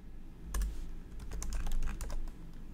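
Fingers type steadily on a computer keyboard, a close, busy run of crisp key clicks in irregular bursts with no voices.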